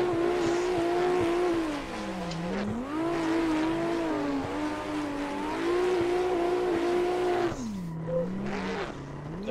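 A race car engine in the Assetto Corsa racing game whines continuously, pitch rising and dipping with gear changes and throttle as the car spins out and clips a wall, loud and close throughout.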